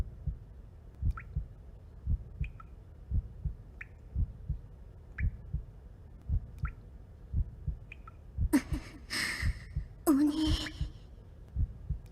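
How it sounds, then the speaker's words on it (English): Blood drips steadily in a slow, even rhythm, each drop a soft close plop over a low heartbeat-like pulse, in a scene from the Chaos;Head Noah video game. Two brief louder rustling bursts break in near the end. "I heard what sounded like dripping water, but it wasn't water."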